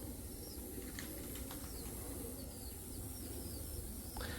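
Tippler pigeons flap their wings as they drop in to land outdoors, a steady soft flutter over constant background noise with faint chirps throughout.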